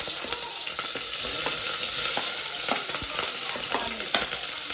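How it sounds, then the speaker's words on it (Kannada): Green chillies and onions fry loudly in a pan, a dense continuous sizzle with frequent close clicks and scrapes of a spoon stirring throughout, and no talking. "ಆನಿಯನ್ ಹಾಕೋದು ಚೆನ್ನಾಗಿ ಫ್ರೈ ಮಾಡ್ಕೋಬೇಕು"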